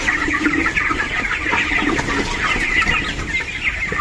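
Chickens on a poultry farm cluck in a dense, steady chorus, many birds overlapping close by with no pauses and no voices.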